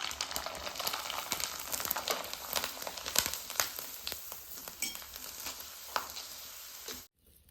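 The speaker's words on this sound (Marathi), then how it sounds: "अशाच पद्धतीने आपण दुसरी पण कुरडई तळून बघणार आहे." Kurdai, white wheat fryums made from ration wheat, crackle and sizzle in hot oil, with busy close frying bubbles and occasional crinkly pops, then a sudden cut to quiet.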